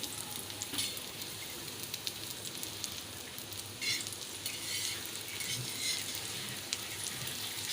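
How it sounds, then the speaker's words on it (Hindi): Shami kababs frying in oil in a pan over a low flame, a soft steady sizzle with faint crackles and occasional pops, close and continuous. "अब इस साइड से भी मैं इनको लो फ्लेम पे ही गोल्डन ब्राउन करूँगी।"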